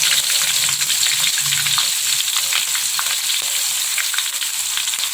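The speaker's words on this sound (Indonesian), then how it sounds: "Kita tumis hingga mengeluarkan aroma yang wangi" Ground spice paste for chicken-feet soto fries in hot oil with a dense, continuous loud sizzle and crackle, and occasional faint stirring scrapes underneath. No one speaks.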